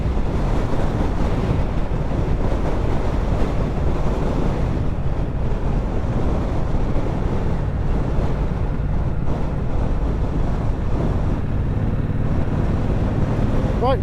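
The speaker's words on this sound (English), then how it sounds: "Oh, that wind." Heavy wind buffets the microphone while riding a motorcycle along the coast on an island route, a loud constant low roar with a faint engine rumble underneath.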